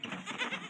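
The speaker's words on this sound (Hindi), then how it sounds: "ये हमारी बकरी है और इसके नीचे है हमारे दो बच्चे," A farm goat, the mother of two kids on an organic farm, lets out a single short, wavering bleat, close and fairly soft.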